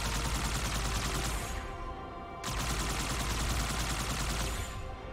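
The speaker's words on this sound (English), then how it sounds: "I didn't even know that was a machine gun." Sustained rapid machine gun fire in the video game Halo 2, loud and dense, with a brief dip in the middle before the burst resumes at full strength.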